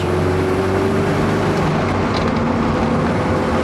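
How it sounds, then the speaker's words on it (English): A Triumph TR7's four-cylinder engine runs with a steady, deep, droning hum, loud and constant throughout, with no voices over it. "it feels a very bellowy, deep down, torquey engine"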